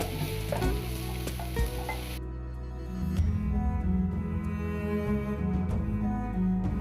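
Sliced onions sizzle steadily as they fry in hot oil for a clam meat roast, with a continuous close crackle and occasional scraping of a spoon as they are scooped out.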